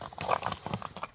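Hooves of a well-known Aravan horse offered for sale clip-clop in a quick, close sequence of sharp knocks, with no talk over them.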